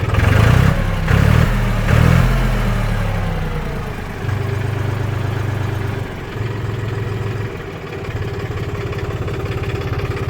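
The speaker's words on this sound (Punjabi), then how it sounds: "ਮਾਈਕ ਮੈਂ ਉਤਾਰਿਆ ਤਾਂ ਜੋ ਤੁਹਾਨੂੰ ਸਹੀ ਆਵਾਜ਼ ਦਾ ਆਈਡੀਆ ਹੋ ਸਕੇ ਟਰੈਕਟਰ ਦੀ" A Farmtrac 45 tractor engine idles loudly nearby, a steady low diesel throb that pulses heavily at first, then settles into an even drone.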